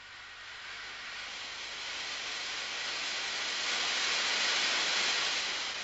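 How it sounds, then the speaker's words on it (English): A compressed air jet blasts from a nozzle in a shock-wave demonstration, a loud continuous broadband hiss that swells slightly and holds steady with no voices. "When the compressed air jet is turned on,"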